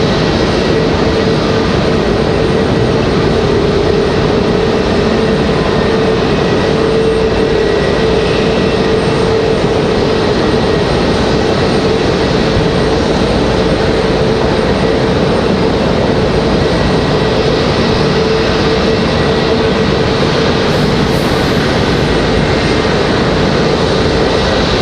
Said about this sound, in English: There's our 737 from Dallas. Looking like a MAX 8.